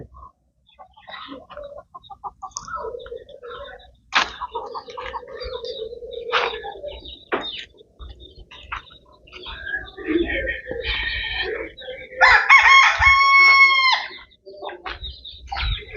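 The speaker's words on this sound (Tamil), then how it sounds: "இதுக்குள்ளேயுமே கோழி குஞ்சுகள் இருக்குது கோழி உள்ளே படுத்துருக்கு" Chickens cluck and chatter close by with scattered bird sounds, then a rooster lets out a loud, drawn-out crow near the end.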